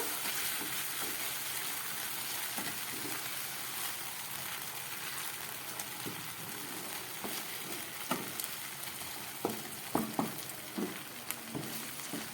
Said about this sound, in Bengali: পোস্তটা দিয়ে আবার একটু কষিয়ে নেব।